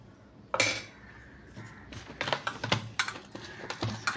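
Salted food ingredients are mixed together with a spoon in a dish, making a run of light, uneven clinks and scrapes that come quick and close, fairly quiet, with no talking.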